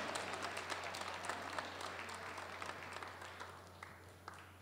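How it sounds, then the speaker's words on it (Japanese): Applause greets drivers on stage at an R/C drift World Cup awards ceremony: dense, even crowd clapping that slowly fades toward the end over a steady low hum. "改めて壇上の3、4選手に改めて大きな拍手を出迎えください。"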